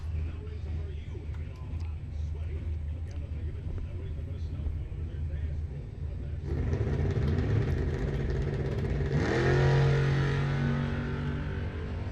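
A Willys coupe and a Kawasaki motorcycle launch off the line at a bracket drag race, engines rising into a loud, building roar partway through, with a track announcer talking over the noise.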